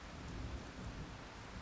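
A thunderstorm with steady heavy rain hissing and a low rolling rumble of thunder underneath, dense and continuous with no voices.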